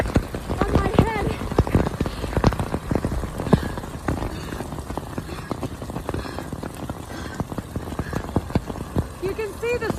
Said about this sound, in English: This hail is pouring down so heavy that it feels like rocks on my head.